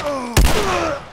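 A single loud, close pistol shot with a sharp boom rings out in The Last of Us over a background of sustained game tones.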